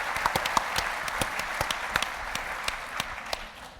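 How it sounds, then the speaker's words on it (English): An audience at a policy forum on cities and the recession gives George Stephanopoulos a round of applause, with dense crowd clapping and a few sharper individual claps standing out, fading slightly toward the end. "Please join me in giving him one more round of applause"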